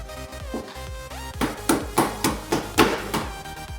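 A hammer pounds the dented door of a damaged Nissan NV400 van, giving about eight loud metallic strikes in a steady rhythm after a quiet, ringing start.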